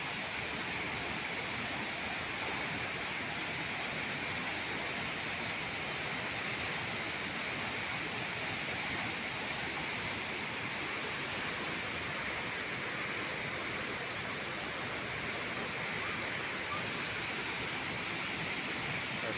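Wachirathan waterfall at Doi Inthanon, Chiang Mai, roars as a constant, broad rush of falling water, steady and unchanging for the whole stretch, heard at a moderate distance with no talk.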